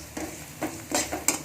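Curry leaves dropped into hot oil for a bitter gourd tamarind curry, giving bursts of crackling sizzle over a steady frying hiss, with a few stirring scrapes in the pan.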